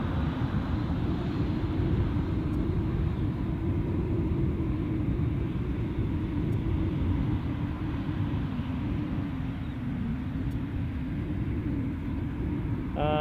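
Airliner departing Edinburgh Airport for Barcelona, a steady broad jet roar that stays loud and even throughout, heard from a spotting position at some distance.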